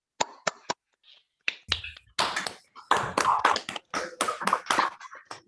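A few unmuted participants in an online mathematics seminar clap for the speaker. The claps and taps are sparse and uneven, come from several close microphones, and have brief silent gaps between bursts.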